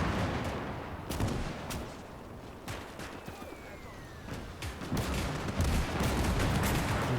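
Mortar fire in the WWII strategy game Gates of Hell, German campaign: repeated sharp reports and booms scattered over a steady battle din, some close and loud, others distant, with no talk.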